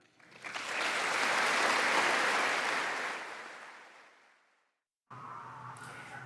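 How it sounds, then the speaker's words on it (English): Sustained applause fills the chamber of Congress for Benjamin Netanyahu, swelling quickly to a dense roar of many hands, then fading gradually to silence before a new sound begins. "Applause punctuating every statement that Benjamin Netanyahu had"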